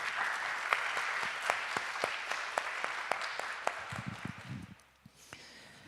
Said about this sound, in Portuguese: Por favor, uma salva de palmas para...